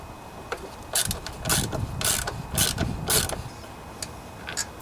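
A socket wrench ratchets on a bolt of a riding lawnmower's Kohler Courage 18 engine: several close, sharp clicking bursts in an uneven rhythm over faint background noise.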